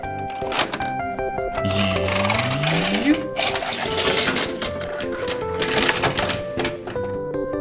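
A plastic Tayo toy playset elevator is raised with a mechanical whirring and clicking, accompanied by rising electronic toy tones and a few thunks, all close and fairly loud.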